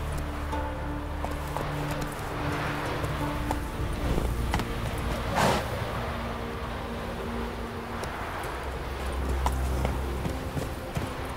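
Roach, a horse in The Witcher 3: Wild Hunt, gallops with steady, continuous clip-clop hoofbeats layered over busy in-game ambience.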